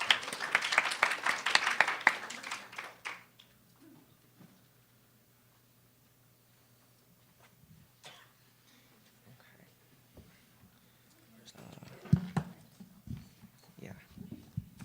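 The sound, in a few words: audience applause after a presentation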